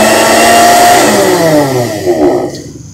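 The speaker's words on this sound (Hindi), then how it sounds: "जुस्सर ब्लेंडर जो कि पैनासोनिक की कंपनी है, WJMJ-W176P जुस्सर ब्लेंडर" A Panasonic WJMJ-W176P juicer blender with a glass jar runs with a loud, high motor whine that begins winding down after about two seconds and fades out.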